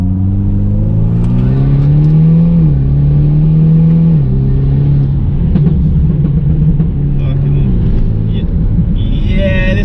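A Mitsubishi Lancer Ralliart fitted with an Evo X FQ360 turbo pulls hard from the cabin, its engine note climbing and settling in steady surges throughout, with people talking over the drone.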